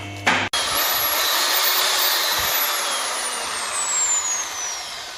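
A power drill whirs steadily for several seconds after a brief click, its high-pitched motor whine slowly dropping in pitch, loud and close.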